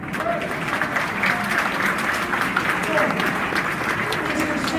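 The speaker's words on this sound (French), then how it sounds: "aujourd'hui, applaudissez pour l'amour." An audience at a conference in Paris applauds continuously, a full, even roar of many hands with some voices mixed in.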